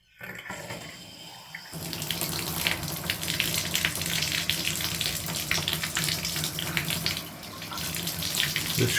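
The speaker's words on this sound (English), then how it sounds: "And I'll turn the water on." Water bursts on from a Glacier Bay 2021 model shower faucet after a brief quiet moment, then runs in a steady, close hiss of spray that eases slightly near the end.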